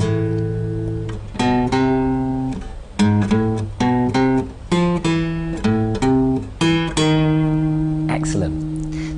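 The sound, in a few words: guitar playing a section of a theme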